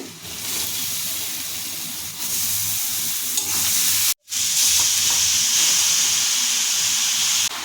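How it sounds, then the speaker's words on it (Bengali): Vigorous, loud sizzle of grated papaya frying in hot oil with curry leaves, a dense steady hiss broken by a brief silent cut midway, no talking. "আমি এবার দিয়ে দেব গ্রেট করা পেঁপে"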